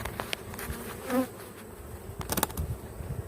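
Honey bees buzz steadily in a dense swarm around a hive during honey harvesting, with a few louder passes close by and some scraping knocks in the background.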